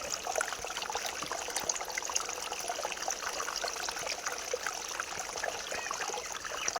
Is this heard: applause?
no